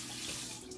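A bathroom or kitchen tap runs in a steady, hissing stream, close and unbroken for under a second, with no voices over it.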